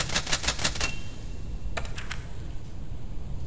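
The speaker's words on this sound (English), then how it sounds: "Got another typewriter." An old typewriter in the horror video game Cultic clatters through a quick burst of about six keystrokes, pauses, then strikes three more, crisp and close over a low steady rumble.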